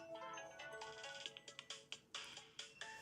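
A mobile phone ringtone plays in a bright, repeating electronic melody with rhythmic pulses, moderately loud and close, with no talking over it.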